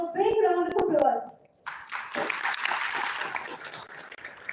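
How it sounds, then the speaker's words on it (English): Parents are applauded at a pre-departure event for students going abroad, with talk and a voice at first, a brief lull, then scattered, fairly soft clapping from the audience. "Let's give them a big round of applause."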